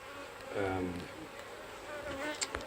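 Honeybees buzz softly inside a Flow Hive Hybrid in a low, continuous drone, quiet and close, with a few faint clicks and shifts in pitch.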